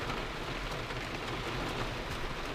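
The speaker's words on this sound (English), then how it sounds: "It's pouring rain." Heavy rain pours steadily during a storm at a motorcycle camping spot, a dense, continuous hiss with a low rumble underneath, loud and close, and no talking.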